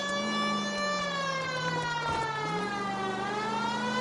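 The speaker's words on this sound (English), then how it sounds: "You hear a siren." A police siren in the video game L.A. Noire wails with rising and falling harmonic tones, continuous and fairly loud, with no voices over it.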